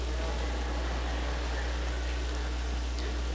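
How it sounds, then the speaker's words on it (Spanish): Rain falling outside during a church service, a dense steady hiss of downpour with a constant low hum underneath, loud and unbroken throughout. "Damos gracias a Dios por la lluvia, porque ahora nadie tiene afán de irse"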